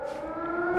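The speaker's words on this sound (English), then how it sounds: "We're just gonna ignore the air raid siren." An air raid siren wails in the video game Fallout 4, a steady sustained tone that holds loud and even for under a second with no talk over it.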